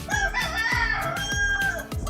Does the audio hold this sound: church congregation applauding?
no